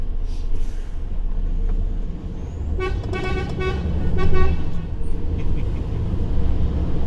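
A big truck horn blasts several times in short, loud bursts over a steady engine rumble, near and clear.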